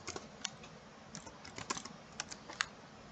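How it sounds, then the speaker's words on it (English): Close, quiet keystrokes on a computer keyboard come in short irregular bursts of clicks and taps, with no voices over them. "I'm going to type in Soundcloud"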